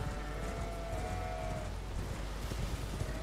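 Sheep bleating in the video game Elden Ring, a drawn-out animal cry heard alone over a steady low background hum, fairly close and moderately loud.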